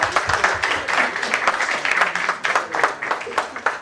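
An audience at a banking quiz competition semi-final claps, a loud, busy rattle of many hands that swells and dips slightly throughout, with voices mixed in.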